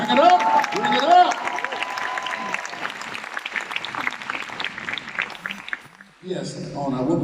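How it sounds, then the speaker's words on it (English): An audience applauds at a motivational speaking event, a moderate wash of clapping with a voice talking over it, then a brief pause before a single louder voice speaks. "Give a round of applause for your greatness."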